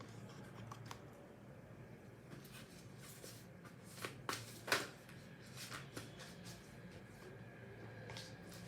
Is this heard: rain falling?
no